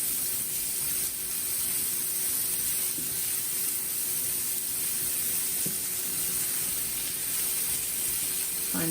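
A pecan cranberry relish cooking in a pan, giving a steady, even sizzle with broad hiss throughout and only faint stirring touches.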